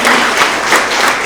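Audience applause at a grades 6–8 school award assembly for physical education award winners, a dense, steady wash of many hands clapping at close range with slight swells, filling the whole moment without talk.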